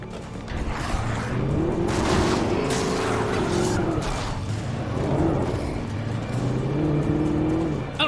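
A car engine in the Alan Wake video game drones steadily and loudly with rising and falling revs as the vehicle drives, continuous throughout without talk.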